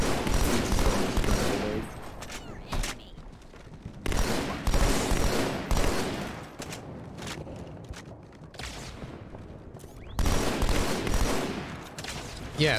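Sniper rifle gunfire in the video game Halo 2: loud, dense bursts of shooting in several long stretches, broken by short quieter gaps.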